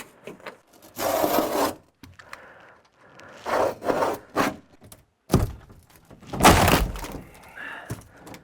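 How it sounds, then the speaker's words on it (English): Old wood paneling being cut through during basement stairwell demolition, rough rasping bursts of cutting strokes broken by thuds and pauses, close and fairly loud, with no speech. "It's going to come down in one big sheet unless I cut it"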